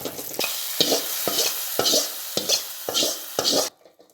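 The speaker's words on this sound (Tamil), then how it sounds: "கொஞ்சம் கறிவடகம் நல்லா பொரிஞ்சிருச்சு அப்படியே கூட்டில் போட்டுற வேண்டியதான்" Fried karivadagam tempering being stirred into amaranth greens kootu, a rhythmic series of about seven scraping stirs with a sizzle underneath, close and fairly loud, ending abruptly into quiet.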